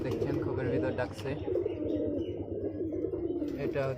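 Giribaz pigeons coo inside a loft, a continuous low burbling of several birds close by, with someone talking over them throughout.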